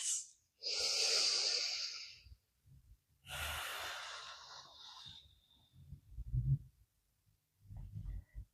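Slow, deep yoga breathing, with long audible inhales and exhales carrying a breathy hiss, close and unhurried, followed by softer low breath sounds toward the end, with no talking.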